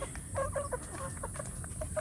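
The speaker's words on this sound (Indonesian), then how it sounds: "kalau ayam kampung kita ini" Several free-range village chickens cluck softly in short, irregular bursts over a steady outdoor hiss, with no voices present.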